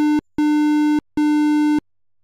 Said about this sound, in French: on a entendu le code Morse du haut, qui est l'inverse en fait du code Morse du S.